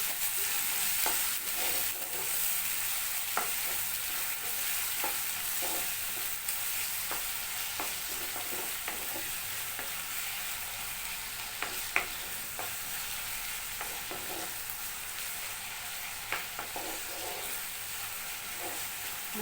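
Chopped onions sizzling over a gas flame in a pan, with a constant even crackle and occasional clicks of a spoon stirring, close and moderately loud with no voices.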